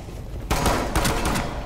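Rapid gunfire breaks out in the tactical shooter Rainbow Six Siege, a loud close burst of several shots in quick succession after a brief quieter moment.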